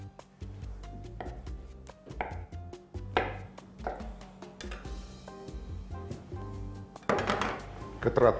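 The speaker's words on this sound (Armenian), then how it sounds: "կտրատում ենք մարինացված վարունգ" A knife chops marinated cucumber on a board for a potato salad, a quick series of close, crisp strikes with brief pauses, a few light dish clinks, and soft tonal music underneath.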